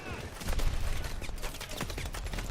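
Rapid mobile turret gunfire in the Call of Duty Advanced Warfare video game, a dense, continuous burst of loud shots in fast rhythm, with speech mixed in.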